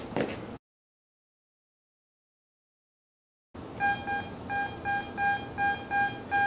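A metal detector sounds over a Meiji-era 1883 Japanese 1 sen coin. After a short noise burst and a stretch of silence, it gives a series of regular, evenly spaced high electronic beeps at moderate volume.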